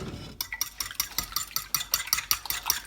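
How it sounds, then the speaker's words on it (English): A spoon stirring a mixture thinned with a touch of milk for eggplant rollatini, with about a dozen quick, regular scraping clinks against the bowl, close and fairly quiet. "and a touch of milk, just to thin it out a little bit. Okay, give it a mix."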